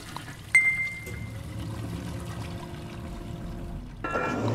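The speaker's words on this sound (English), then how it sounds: "And flush." A toilet flush in the Aperture Desk Job video game: a sharp click, then a steady rushing pour of water that swells louder near the end, close and without talk.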